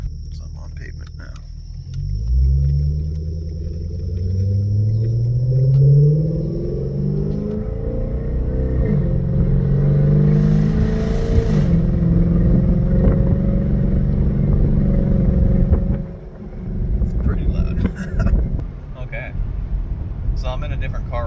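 A V8 Genesis sedan with a new X-pipe accelerates up a road, its deep exhaust rising through gears with a rumbling growl that swells and eases, heard from inside under steady talk.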